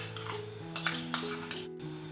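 Chicken, tomato, onion and garlic stirred in a pan with a little water, a utensil scraping and clinking against the metal in a few soft strokes over a steady low background hum.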